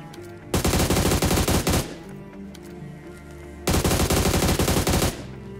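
Automatic gunfire in PUBG, two loud sustained bursts of rapid shots about three seconds apart, each lasting over a second, with quieter game ambience between them.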